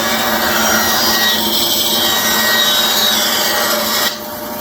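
A saw cuts through an end-grain walnut and cherry stair-step cutting board, a steady loud rasping roar that runs continuously before dropping off abruptly near the end; no voices.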